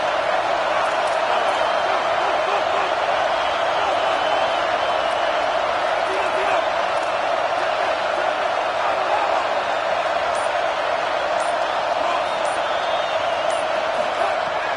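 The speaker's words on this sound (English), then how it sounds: "The Buckeye crowd alive on third down." Dense, roaring football stadium crowd at an Ohio State Buckeyes game, a steady wall of cheering and whooping that holds loud and unbroken throughout, with distant announcer talk faintly underneath.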